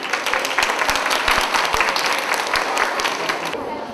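A crowd at a school end-of-year celebration in Ciochina applauds, with dense clapping and a few sharp distinct claps standing out, holding steady before thinning slightly near the end.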